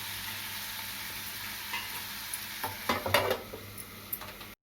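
Chana masala curry stirred in a pot, a faint steady simmering hiss with a few soft scraping and clinking spoon sounds near the end.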